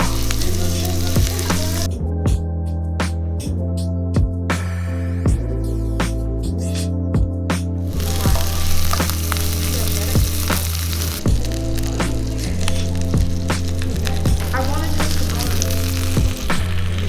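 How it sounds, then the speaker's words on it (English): Burger patties sizzle and crackle in a pan during a cooking contest, a steady frying hiss running for many seconds beneath rhythmic background music. "Hear that sizzle."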